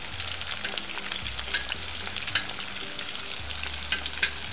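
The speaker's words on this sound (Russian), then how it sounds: "Сейчас лучок поджарится, мы все помешаем." Onions added to fried potatoes in a sadj pan, sizzling and crackling steadily with scattered pops and occasional stirring scrapes, close and moderately loud, with no talk.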